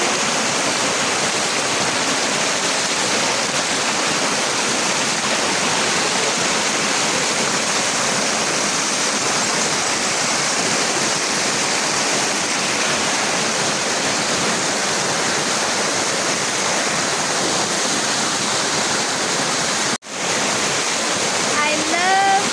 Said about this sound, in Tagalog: I love Mandaya Falls.